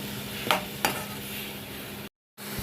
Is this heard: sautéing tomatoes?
yes